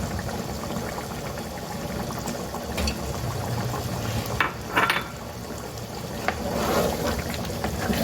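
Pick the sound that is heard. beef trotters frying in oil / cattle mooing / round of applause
beef trotters frying in oil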